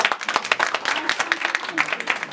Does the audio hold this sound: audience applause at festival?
yes